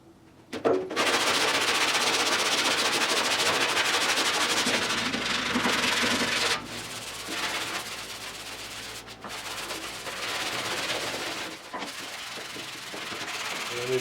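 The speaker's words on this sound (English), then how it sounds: "now I'm gonna do a little bit rough with 40, and then I'm gonna go to another grit, maybe to 120" Coarse 40-grit sandpaper rubbing over the metal body of a 1972 Triumph GT6 during restoration, a loud continuous harsh scraping in long strokes with brief pauses.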